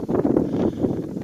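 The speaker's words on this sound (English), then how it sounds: "it's pretty windy right here today here in the mountains." Strong wind blowing in the mountains buffets the microphone with a steady, loud, low rumbling roar for the whole moment, with no voices over it.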